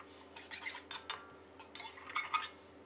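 Metal utensil scraping and clinking against a pan in quick bursts of stir-frying glass noodles and vegetables, close and fairly quiet over a low steady hum.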